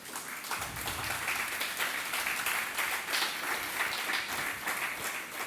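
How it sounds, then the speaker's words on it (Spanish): Church congregation clapping during a sermon: a steady, moderately distant wash of applause from many hands, continuous for several seconds with no voices. "Dele una ofrenda de palmas al Señor."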